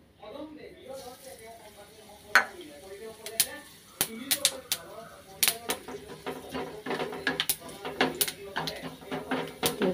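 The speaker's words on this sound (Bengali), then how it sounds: "তিল দিয়ে দিচ্ছি, তিল দিয়ে করব।" Sesame seeds frying in a wok for a vegetarian dish after dried chillies, with close, irregular crackling pops and sizzle that grow denser over time, under a person talking.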